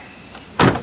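A single solid clunk from a new lock cylinder being worked in a 1997 Ford Ranger door, a short close mechanical knock after near silence.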